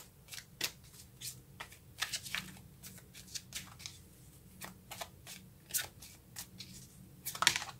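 Tarot cards are shuffled by hand in quick, soft riffling bursts with small flicks and pauses, close up and fairly quiet, with no voices.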